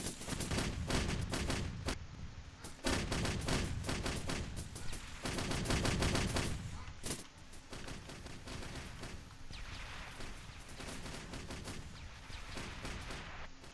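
Sustained war video game battle with dense gunfire, machine-gun bursts and booming artillery, loud and continuous with heavier blasts in the first half, no talk.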